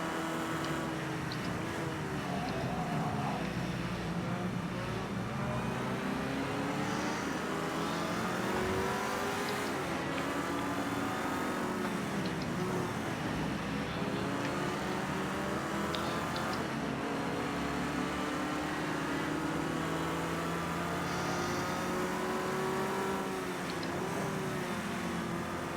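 A vintage Ford Escort touring car races at Brands Hatch, its engine droning loud and close throughout with steady revving and shifting pitch as it works through gears, other race cars audible around it.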